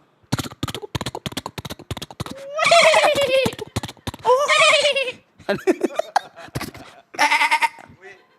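A person imitates a goat's bleat with several wavering, nasal cries, interspersed with sharp clicking taps and brief pauses.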